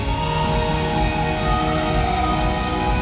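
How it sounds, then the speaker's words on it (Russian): Music drenched in heavy echo and reverb fills the space with a dense, continuous wash at steady loudness, the notes smeared and blurred together for a few seconds with no speech. "Я решил накинуть на музыку эхо, реверберацию."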